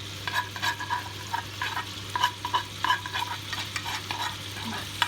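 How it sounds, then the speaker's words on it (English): Sausages sizzle in a frying pan for bangers and mash, a steady crackling fry with repeated scraping and stirring strokes against the pan, close and moderately loud, with a low electrical hum underneath. "That's sizzling away."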